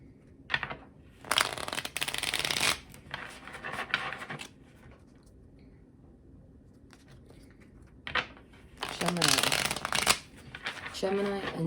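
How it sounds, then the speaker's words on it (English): Tarot cards are shuffled in several brisk bursts of riffling and sliding, loud and close, with quiet gaps between them and no talking over the shuffles. "Let's get a good shuffle."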